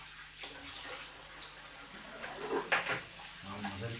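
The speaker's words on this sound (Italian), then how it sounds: "Allora, sciacquo il viso e torno da te." Cold water from a tap splashing as a face is rinsed at a sink, with intermittent close splashes and trickles of varying loudness, fairly quiet overall, and a voice briefly audible.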